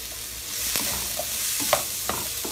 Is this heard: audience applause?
no